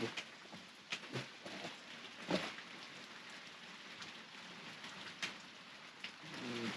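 Continuous heavy rain at a cabin during a tornado-warning storm, pattering and hissing loudly, with occasional sharper bursts of heavier drops; no voices.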